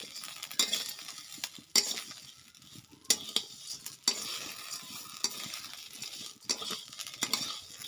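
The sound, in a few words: stirring vermicelli (semai) frying in a pan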